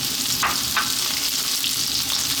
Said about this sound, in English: I'm now going to add in a couple of other vegetables, my hardest vegetables, so that would be my beans